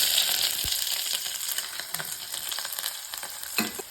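Mustard seeds, shallots, onion, curry leaves and dried red chillies frying in hot coconut oil for a Kerala tomato moru curry, a steady close sizzle with scattered pops and crackles and a few stirring knocks.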